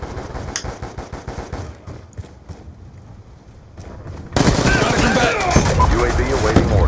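MSMC submachine gun in Black Ops 2 multiplayer firing in rapid bursts of sharp shots, followed by a louder, denser stretch of gunfire and game noise, with a voice speaking underneath.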